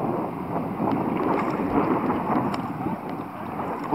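Steady wind on Astoria beach in Eforie Nord, Romania, buffets the microphone with a continuous low roar and rumble, gusting slightly throughout.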